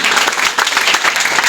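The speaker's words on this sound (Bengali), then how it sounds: "একটা হাততালি হবে প্লিজ" A group at a government ITI session claps for a participant, a loud, dense burst of applause close by that continues evenly for the whole moment.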